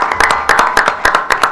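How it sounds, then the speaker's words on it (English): A small group clapping for a police department and its chief at a meeting, short, close, uneven claps in a quick burst. "So a big round of applause to the police department, to Chief."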